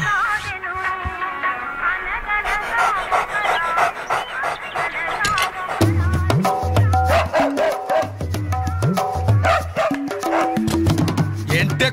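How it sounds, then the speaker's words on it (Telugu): A dog pants and yaps in short, repeated bursts close by, mixed with music and voices in a comedy scene. "ఏంటే కుక్క అట్టా సొత్తున్నావు?"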